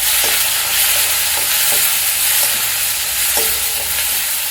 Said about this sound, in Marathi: बघा आता कांदा परतलेले आहे तर आता आपण यामध्ये घालूया टोमॅटो